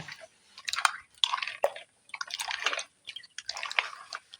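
Malabar spinach leaves are swished and rinsed in water, making repeated close splashing, dripping bursts in uneven clusters separated by brief pauses, with no voices.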